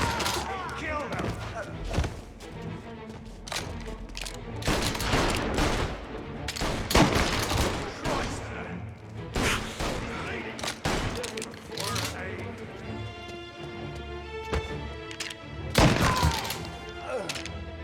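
Gunfire in Mafia Definitive Edition, with a loud close volley of shots and heavy bangs scattered through a tense standoff, mixed with shouting and character dialogue.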